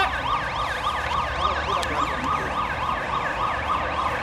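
An ambulance siren wails in a rapid, regular up-and-down sweep over low traffic rumble. It is fairly loud and continuous throughout.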